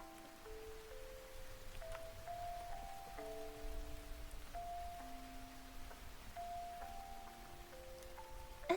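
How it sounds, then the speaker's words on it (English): A soft music box plays a slow, gentle tinkling melody over faint, steady rain ambience, quiet and even throughout with no talking. "Does the background sound okay? The little music box and the rain?"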